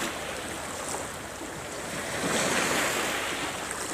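Sea waves roll and wash in a steady broadband surge, swelling louder toward the middle, with wind buffeting the microphone throughout and no voices.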